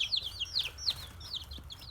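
Village chicks peep in quick, high, repeated chirps close by, with a low murmur of hens clucking softly underneath.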